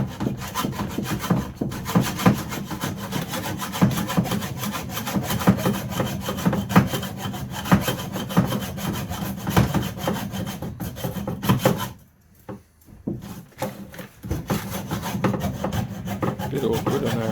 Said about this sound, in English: All we're doing is hacksawing each one.